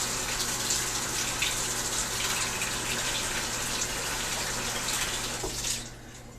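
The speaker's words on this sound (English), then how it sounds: "I'm just going to run that under a little bit of cold water again." Cold tap water runs steadily into a sink over a PVC bow, a continuous close broadband splashing gush that holds nearly the whole time before easing off at the very end.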